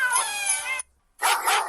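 A puppy gives two drawn-out, high yelping barks, the second following a short silence, both close and loud with no talk.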